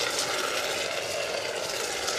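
Water is poured steadily into a pot to make bonito tea, a soft continuous splashing hiss lasting a couple of seconds at moderate volume with no voices.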